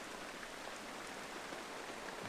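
Steady rain shower falling in the Australian outback, a continuous even hiss of drops on surfaces with no breaks, moderately close and alone without voices.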